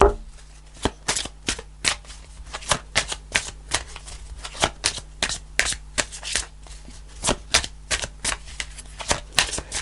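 Angel answer cards being shuffled for a tarot reading, a quick run of crisp riffling slaps and flutters in an irregular rhythm, close and loud, with no voice over them.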